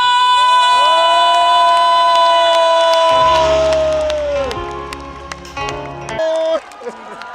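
Festival crowd at an outdoor trot music performance roaring with drawn-out, sustained cheers and shouts, loud and close, with scattered claps breaking through as the voices fade near the end.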